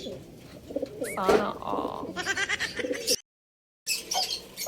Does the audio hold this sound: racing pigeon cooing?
yes